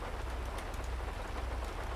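Rain falls in the game GTA 5, a dense, steady patter of drops on surfaces, soft and continuous with no voices.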